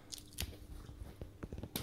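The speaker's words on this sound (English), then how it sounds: "Let's try the cold-grown Nordis. It's very crunchy and juicy, with no bitterness at all." Crisp bites into crunchy, juicy cold-grown Nordis lettuce: a few sharp crunches spaced irregularly, with moist chewing between them, close up and with no talking.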